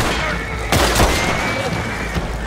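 Gunfire in Red Dead Redemption 2, with a couple of sharp, loud shots cracking over a steady bed of in-game ambience and engine rumble.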